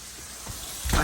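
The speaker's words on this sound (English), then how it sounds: "I have chicken frying right now." Chicken frying in a pan gives a soft continuous sizzle, with a louder crackling burst near the end of the short moment.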